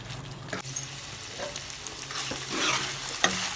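Chicken gravy bubbles and sizzles as it reduces in a pan, with scattered spatula scrapes and stirring knocks over a close, steady frying hiss.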